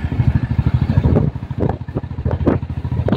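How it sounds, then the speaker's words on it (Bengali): Motorcycle engine while riding along a village road at dusk, a close, loud, pulsing throb with a rapid regular beat that continues without pause. "খালি আমার রাজাবাবুর বাইকের বেট আওয়াজটা উঠে।"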